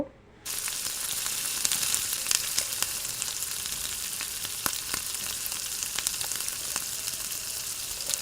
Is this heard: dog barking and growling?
no